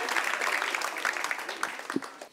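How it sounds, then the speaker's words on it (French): TV debate studio audience applauding as a participant arrives, a dense wash of many hands clapping at moderate distance, steady throughout with slight fading near the end. "On l'applaudit pendant qu'il arrive"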